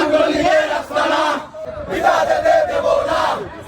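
A crowd of student and youth party activists chanting political slogans outdoors at a funeral prayer gathering, with loud rhythmic unison shouts in two bursts separated by a brief dip.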